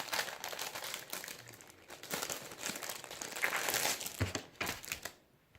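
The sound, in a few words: plastic wrapping being taken off a keyboard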